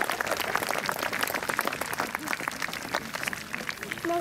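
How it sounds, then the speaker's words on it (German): Audience applause at an Austrian armed forces open day at a barracks in Amstetten, greeting two athletes at the finish; steady outdoor clapping from a crowd, fairly even throughout with some voices mixed in. "ich bitte um einen Applaus für unsere beiden Athleten"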